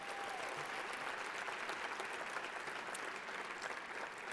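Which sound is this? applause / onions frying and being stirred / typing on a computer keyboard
applause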